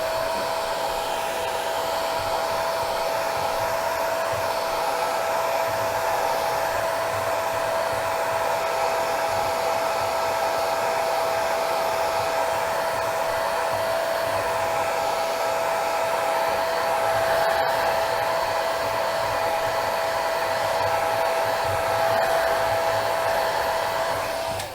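A hair dryer blows continuously at a steady pitch, close and loud, with an even whooshing whine throughout.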